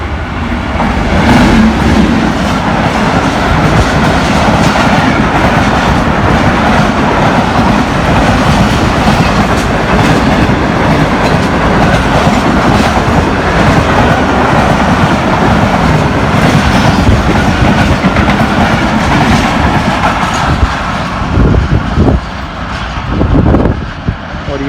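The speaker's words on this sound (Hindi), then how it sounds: "To down Khyber mail ZSU 30 lead पर है इसकी, न्यू मुल्तान रेलवे स्टेशन से गुजर रही है।" The Khyber Mail, led by a ZSU-30 locomotive, passes through New Multan station in Pakistan at about 100 km/h, a loud, continuous roar of wheels and carriages rushing close by.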